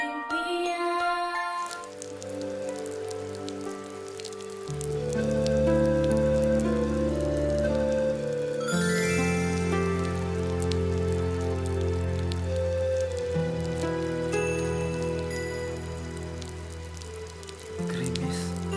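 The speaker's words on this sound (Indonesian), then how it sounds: "Bapak mendengar rintik hujan." Light drizzle patters softly and steadily beneath sustained, tonal background music, the gentle rain texture continuing throughout.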